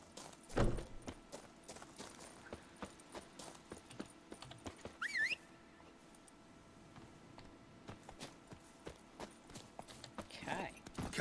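Hooves of Roach, a horse in The Witcher 3, clip-clop in a steady, fairly quiet rhythm across mucky ground, with a brief whinny-like squeal partway through and occasional speech over the top.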